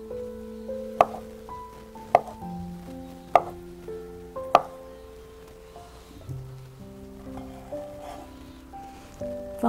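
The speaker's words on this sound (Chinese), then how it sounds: "豆肠把它大约切成4公分" A knife strikes a board while cutting tofu skin rolls into pieces about 4 cm long, a few sharp separate chops about a second apart, heard under soft background music.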